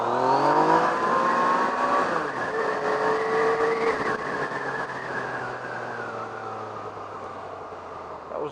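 A Yamaha MT-09 motorcycle accelerates hard with the front wheel lifting, a loud, close engine note climbing in pitch, easing off at about two seconds, then rising again and holding a steady drone to the end.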